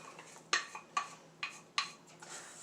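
Graham cracker crumbs stirred with melted butter in a bowl for a s'mores crust: four or five distinct clinking scrapes of a utensil against the dish at an even pace, fairly close and quiet, with no talking.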